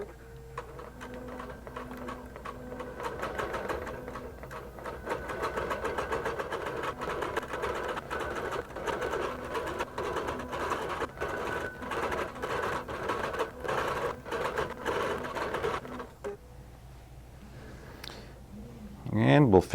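A QBOT V3 quilting robot sewing machine stitches an appliqué echo quilt in a fast, steady mechanical patter with a low motor hum, then stops near the end as a voice speaks.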